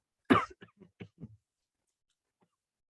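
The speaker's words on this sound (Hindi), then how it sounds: "इसलिए थोड़ा खांसी आ गया था" A man coughs close to the microphone in a short burst: one strong cough followed by several smaller, quickly fading throat hacks, then near silence.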